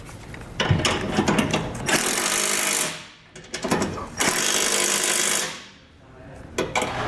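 A power tool drives and tightens bolts on the brackets of Westin HDX nerf bars with drop steps on a 2021 Ram 2500, heard as two loud sustained bursts about 1.5 seconds each, with clanking handling noise between them.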